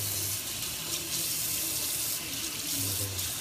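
A household kitchen sink being rinsed under a running tap, with a steady, close rush of water splashing into the basin and no talking.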